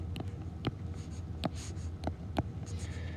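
Pen or marker writing out a fraction step for dividing rational expressions: a run of short scratchy strokes with a few sharp taps, close and steady over a low hum, no talking.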